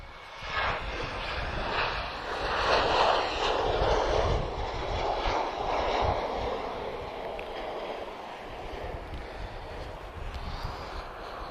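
A Boeing 737 airliner at Lisbon Airport roars steadily with broadband jet engine noise that swells and slowly fades, sustained and fairly loud throughout with some wind buffeting.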